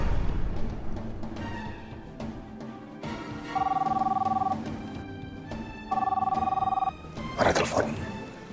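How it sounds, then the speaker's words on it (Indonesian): A telephone rings twice in an indoor drama scene. Each ring is a sharp electronic trill lasting about a second, and voices and background music carry on around the rings. "Ada telepon."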